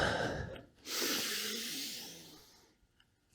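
A long, breathy inhale during a Kriya Yoga isometrics exercise, close and clearly heard, lasting about two seconds before fading into quiet.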